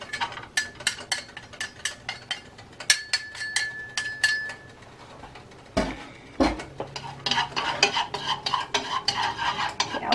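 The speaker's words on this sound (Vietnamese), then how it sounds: "Bây giờ chảo nóng mình bỏ dầu vào nha mọi người. Mình sẽ bỏ tỏi vào phi cho nó vàng." Garlic tossed into hot oil in a pan, with a steady soft sizzle under repeated clinks and scrapes of a utensil stirring against the metal.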